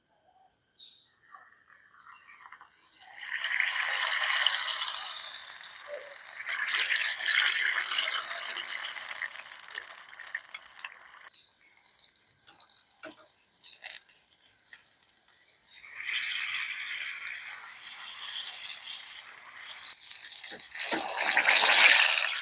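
Crab rangoon frying in hot oil, bubbling and crackling in loud bursts, quieter between batches, steady sizzle at close range with no talk.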